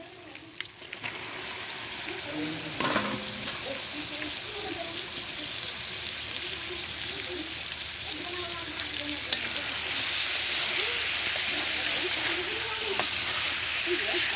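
Goat meat in small pieces drops into a pan of well-fried spice masala and oil, giving a steady, close sizzle and frying hiss with faint stirring scrapes, and no voices.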